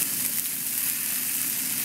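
Tomatoes go into a pan of frying ratatouille vegetables, giving a steady, close, bright sizzle that hisses evenly throughout with no talking.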